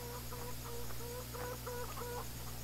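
Chickens cluck in a steady series of short, repeated calls over a constant electronic hum, with no talking, in the video game Farming Simulator.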